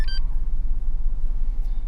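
A quick, short electronic beep from an OBD2 key programmer connected to a Jeep sounds at the start, followed by a low steady hum with nothing else standing out.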